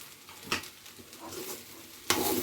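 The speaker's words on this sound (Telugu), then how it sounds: "కలిపేసుకోవాలి చక్కగా" Tomato rice being stirred in a pan with cumin and fenugreek powder: a quiet, close sizzle with two sharper spoon scrapes against the pan, one near the start and one at the end.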